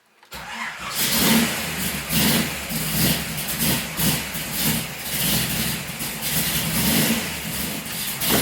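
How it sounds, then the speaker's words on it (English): A freshly rebuilt car engine fires up in a garage for its break-in run and settles into a steady, close idle with light pulsing revs. No one speaks over it. "Fire it up, quick look for a leak, back it out of the garage."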